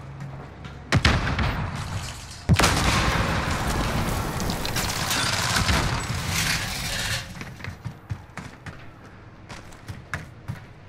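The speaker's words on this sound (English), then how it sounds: "I hear a C4. I don't know who threw it." A C4 explosion in a multiplayer video game, two sudden loud blasts followed by a long rumbling roar that slowly fades, with scattered shots after it.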